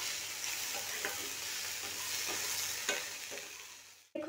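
Okra and potato, seasoned with salt, are stirred and mixed in a frying pan: a soft, continuous sizzle with light scraping strokes, fairly quiet and close, ending with a brief clunk.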